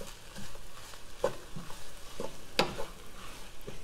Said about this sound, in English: We'll start adding our garlic. Mix that in a little bit.